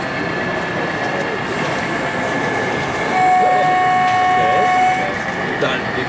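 A model train rumbles steadily with a sustained horn-like tone sounding for a couple of seconds midway, no voices, at a model-building trade fair.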